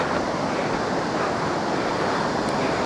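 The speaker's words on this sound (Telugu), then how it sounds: "చూడొచ్చు వాటర్ ఫాల్స్ ఎట్లున్నాయో." Waterfall near Vanajangi, a steady loud rushing roar of falling water that fills the whole stretch without a break, with no talking.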